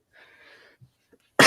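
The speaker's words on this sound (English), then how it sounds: "Excuse me while I cough from time to time, still getting over some stuff." A single loud, harsh cough bursts out suddenly after a few faint, quiet sounds, close to the microphone and cut off at the end.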